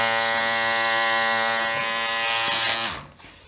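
A Chinese 12 volt diaphragm pump with its pressure switch disarmed runs with a loud, steady electric buzz close by, then winds down and stops near the end.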